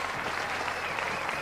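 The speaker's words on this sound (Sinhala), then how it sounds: "අපි ඒගොල്ලන්ට ක්ලැප් කරමු." Audience at a New Year special TV program clapping steadily for the winning team, a dense, even burst of applause throughout.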